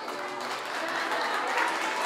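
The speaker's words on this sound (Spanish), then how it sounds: "el aplauso para Valeria." A crowd applauds steadily at a school graduation party, a dense wash of clapping that holds at an even level for a couple of seconds.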